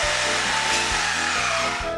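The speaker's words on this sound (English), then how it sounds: "they're sawing them down" Workers saw through the support columns around a house under renovation, producing a loud, close, continuous grinding rasp with repeated stroke-like pulses.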